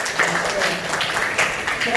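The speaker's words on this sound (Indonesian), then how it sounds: "Oke, tepuk tangan buat Bapak." An audience at a school cultural presentation on traditional Kuda Gipang folk art claps in scattered bursts while a presenter speaks over the applause.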